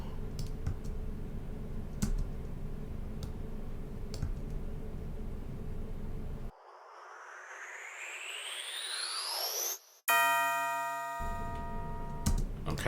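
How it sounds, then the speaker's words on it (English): A rising air sweep from an R&B-style beat in Logic Pro X swells up and cuts into a shimmering cymbal and a bright bell tone, set against a busy electronic backing with clicking percussion, no voices. "So this is the rev up air sound coming in with the cymbal"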